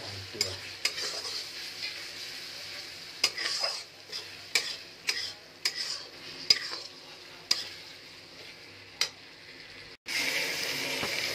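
Ginger garlic paste frying in a pan for a paneer potato masala curry, a continuous bright sizzle with sharp spoon scrapes and clinks spaced every second or so, close and unaccompanied by speech.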